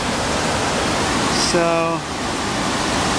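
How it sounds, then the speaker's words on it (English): Floodwater pours as a temporary waterfall from a hot spring cave during heavy rain, a steady, loud, broadband rushing roar that fills the whole clip, with a brief voice heard once. "There's this waterfall that doesn't usually exist on the right and on the left."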